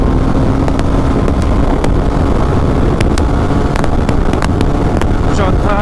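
Apache RR 310 motorcycle accelerating up through the gears in rain mode, a steady loud engine drone buried under heavy wind rush at the helmet microphone, continuous for the whole stretch with no clear pauses.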